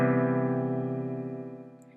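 A single sustained major seventh chord of four notes on piano, sounding once and ringing out slowly, fairly quiet with no voices.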